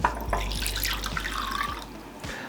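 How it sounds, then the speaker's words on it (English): Warm water runs from a tap into a bowl for blooming yeast, a steady close splashing stream with faint drips, alone with no talk. "We're gonna put our warm water in a bowl"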